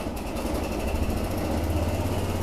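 The small engine of a Cub Cadet 1210 Hydrostatic garden tractor runs close by with a steady buzzing drone that holds loud and even as the throttle is raised.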